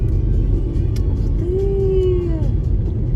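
A car drives on the road in Barnaul, heading to a lookout point, with a steady engine rumble and road noise throughout. One engine tone rises and falls briefly midway.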